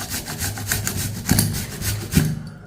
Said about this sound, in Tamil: இப்போ இதை வந்து துருவிக்கிடுவோம்.